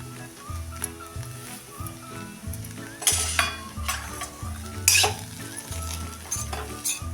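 Jeera aloo with crushed kasuri methi being sautéed in a pan, a soft sizzle under rhythmic spoon scrapes and a couple of louder clanks against the metal.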